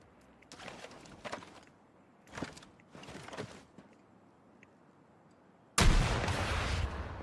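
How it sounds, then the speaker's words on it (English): Artillery strike in the video game Battlefield RedSec: a few muffled, rumbling bursts from farther off, then a sudden, much louder close explosion that roars on to the end. "There is down here an artillery strike"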